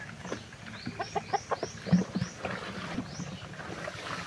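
A Black Australorp hen clucks in a short burst of quick, close notes, with a few soft higher chirps and light background noise and no talking.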